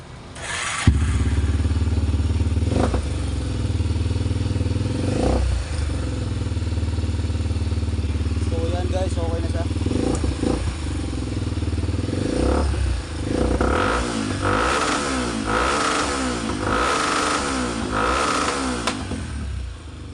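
A Motorstar 400 motorcycle with a newly fabricated manifold cranks, catches and idles loudly nearby, then revs in repeated rising bursts toward the end.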